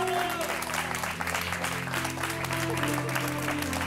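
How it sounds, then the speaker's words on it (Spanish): Studio audience applause on the Spanish TV show Toni Rovira y Tú, a moderate, continuous round of clapping heard under music and voices. "¡Un aplauso grande para ese hombre tan grande,"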